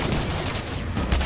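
A rifle firing in the video game Singularity, a dense, loud burst of rapid shots filling the whole moment with no talking.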